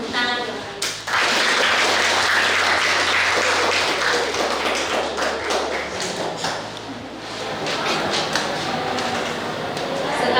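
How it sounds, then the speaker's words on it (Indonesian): Audience at a school student council (OSIS) candidate event claps to welcome the candidates, a dense, fairly loud patter that runs on with a low steady hum beneath it. "Mari kita sambut dengan tepuk tangan."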